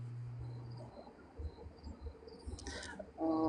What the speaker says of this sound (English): So the crickets are gonna be gone, guys.